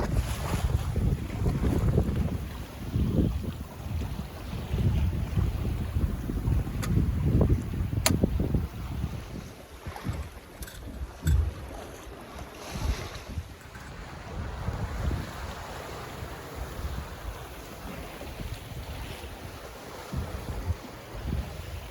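Sailboat running downwind on an ebb tide near Osey Island, with steady wind buffeting the microphone, water rushing and slapping along the hull, and gusty, fluctuating loudness throughout with no talking.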